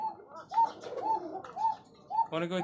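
Big pigeons of the Rajgolla breed cooing inside a cage, four repeated rolling coos in a steady rhythm, fairly close, with a brief burst of other noise at the end.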